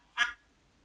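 A single short duck quack, close and clear, standing alone against silence in a toddler-style animal-sounds lesson.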